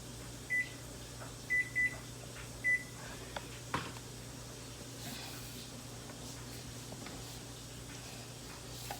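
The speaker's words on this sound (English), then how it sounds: "put my timer on for 3 minutes." A kitchen timer set for 3 minutes while kneading Amish white bread dough gives a few short, high electronic beeps in quick clusters over a steady low hum of room noise, fairly faint.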